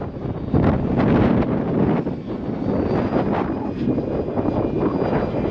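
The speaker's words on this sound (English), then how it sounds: "It is too windy for this." Strong gusty wind roars and buffets the microphone at an RC scale F7F Tigercat warbird flying field, a steady loud rumble with a faint engine drone behind it.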